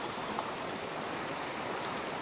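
City Creek, a mountain creek once used by the railroad to fill steam engines, gives off a steady soft rush of flowing water, faint, even and continuous, with no voices.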